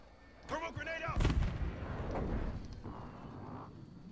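A grenade blast in Call of Duty: Warzone, heard as a sharp, loud boom that rolls out into a rumbling tail amid gunfire-like impacts, with a player's voice talking over the start.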